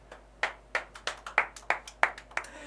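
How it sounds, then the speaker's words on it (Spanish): Hand claps in a radio studio, about a dozen separate sharp claps from a few people, close and uneven in rhythm, with no voices over them. "El aplauso para Tiago en vivo."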